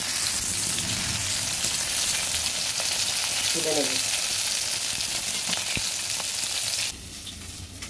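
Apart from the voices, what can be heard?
fish frying in oil in a pan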